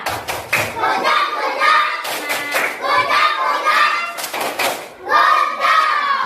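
Schoolchildren in a classroom lesson perform a rhythmic clapping chant, sharp bursts of hand claps falling in regular groups between their sung, chanted voices, close and lively.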